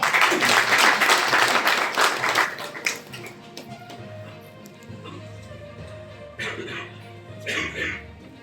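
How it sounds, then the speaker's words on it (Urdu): Loud applause from a crowd at a ceremony fills the first few seconds, then fades into low background murmur with a few scattered claps and knocks later. "اب آپ لوگوں کی بھرپور تالیوں میں"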